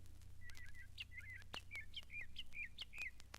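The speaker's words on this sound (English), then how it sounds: "a background chorus of bird songs" Chorus of songbirds at a lake sanctuary, a series of clear bright chirps and short warbled phrases in quick succession over a faint low hum, moderately distant.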